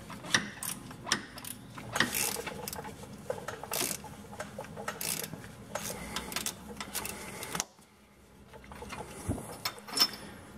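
Rusted bolts on a Jeep WJ hub being loosened with a ratcheting tool, a steady rapid clicking and metallic clatter close up that stops briefly near the end before resuming.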